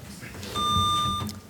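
A quiz competition buzzer at a science bowl championship gives one clean, steady electronic beep lasting about half a second, clear over a quiet hall.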